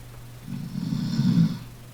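A man snores once, a low rumbling inhale that swells and fades over about a second, close and steady.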